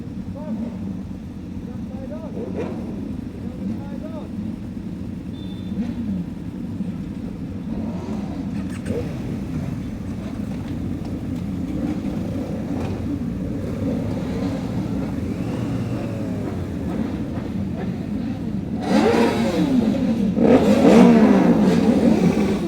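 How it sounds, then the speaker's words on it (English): About 200 motorcycle engines rumble and rev together on a ferry from Northern Ireland to Scotland, a continuous low roar growing louder toward the end, with voices faintly mixed in. "There's going to be about 200 bikes starting up now."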